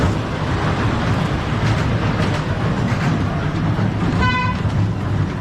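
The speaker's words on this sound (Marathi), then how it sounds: "तर ही बघा, ट्रेन आले मागून." A small toy train rolls through a children's amusement park in Navi Mumbai with a steady, loud rumble, then gives a short horn toot near the end.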